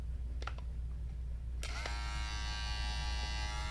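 Cheap Temu electric shaver at first gear clicks on partway through after a few faint taps, then holds a steady thin buzz at low volume.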